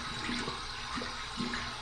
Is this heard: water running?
yes